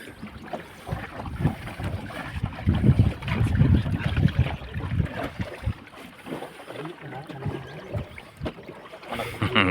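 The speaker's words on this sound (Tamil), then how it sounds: "ஆமாம், காற்று இப்படி அடிக்குது." Gusty wind buffets the microphone over open water on a small fishing boat with oars, a steady low roar that swells and fades, with the boat rocking and voices faintly underneath.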